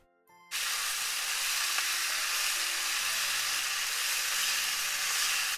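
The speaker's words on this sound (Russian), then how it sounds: "Вот она у нас уже обжарилась с одной стороны. Добавлю немного масла." Loud, steady sizzling of turkey liver frying in oil in a hot pan, starting abruptly after a brief quiet moment and continuing without a break.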